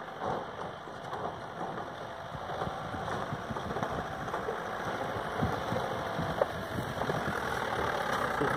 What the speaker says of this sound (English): So this is how the vehicle crossed the bridge.